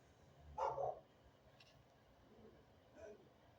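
A single short bark from a small dog, fairly faint, sounding a little off-mic, with quieter sounds and low background noise around it.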